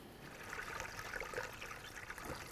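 Coolant trickling and pouring into a container while the heater core hoses are being replaced on a 2008-16 Chrysler Town & Country minivan, a steady low liquid dribble that stays faint throughout.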